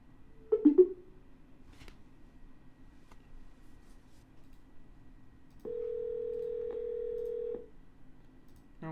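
A telephone ringback tone sounds once during an outgoing call to a property seller, a steady two-second purr in a quiet line, preceded by a brief click and faint handling noise.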